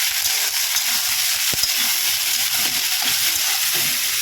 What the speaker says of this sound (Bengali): এইবার আমি সোয়াবিনগুলো ভাজবো।